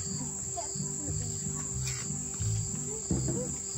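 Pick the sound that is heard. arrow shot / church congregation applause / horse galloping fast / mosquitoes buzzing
mosquitoes buzzing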